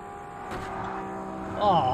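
Race cars in Forza Motorsport on Xbox during a Japanese racing career event hum with a steady engine drone, and the pitch climbs and sharpens near the end as one pulls close.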